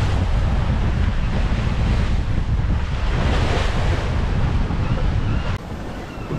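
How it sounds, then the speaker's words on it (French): Rough Mediterranean sea waves wash over the deck of a sailboat in heavy weather, a loud continuous roar of surf and water with strong wind buffeting the microphone. "il y a des vagues qui prennent tout le pont"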